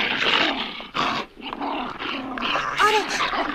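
Frightened dogs in an anime scene, including a Welsh Corgi, Shih Tzu, Siberian Husky and Pyrenees dog, growl and whimper in short, uneven bursts, with voices speaking over them.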